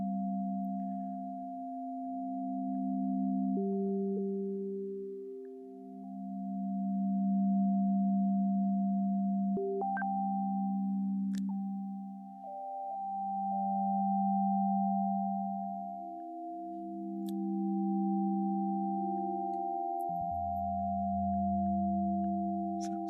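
A chord of synthesized sine tones built in OpenSoundLab, with one voice transposed two octaves down: steady pure tones that hold and shift pitch, with a soft slow swell in loudness and a deep low tone near the end.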